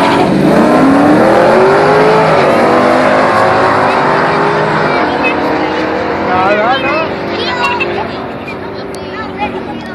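Two cars, a Camaro SS and a nitrous-fed Mustang 5.0, drag racing with loud engine roar and revving sweeping up through the gears, excited voices shouting over it.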